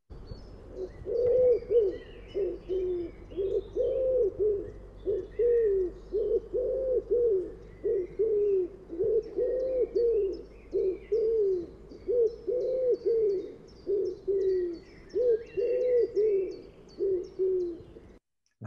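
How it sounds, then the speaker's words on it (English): A wood pigeon sings a steady run of soft, low cooing phrases that repeat rhythmically for nearly twenty seconds. Faint chirps from other birds sit high in the background. "This is the sound of the wood pigeon."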